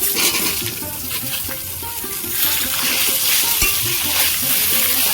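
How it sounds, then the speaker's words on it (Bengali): Brinjal pieces frying in oil with black cumin and green chillies for a brinjal and hilsa curry, a loud close sizzle with spatula stirring and scraping that grows fuller partway through. "কালো জিরে আর কাঁচা লঙ্কা আমি ভালো করে ভেজে নিয়েছি এবার বেগুনগুলো দিয়ে দেব"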